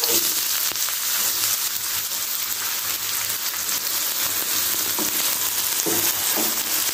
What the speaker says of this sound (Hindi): प्याज को थोड़ा सा फ्राई कर लेते हैं